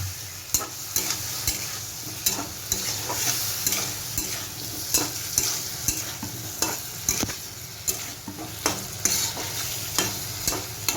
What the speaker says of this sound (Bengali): এখন আরেকটু মশলার কাঁচা গন্ধটা না ছাড়া অব্দি কষাবে